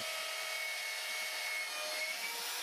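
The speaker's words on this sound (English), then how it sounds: "The holes that are currently being drilled are the ones which the saddles will screw into." A power drill bores holes into a balustrade anchor post for mounting saddles, giving a steady, continuous high whine with no pauses and no talking.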